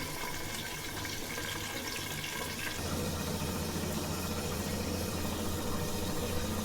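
Water poured onto a metal plate while coconut rice cooks, giving a steady rushing, splashing flow close by that grows fuller partway through, with no talking.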